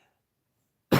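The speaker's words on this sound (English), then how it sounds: "I'm coughing so much." A single sharp, loud cough from one person bursts out right at the end, after nearly a second of near silence.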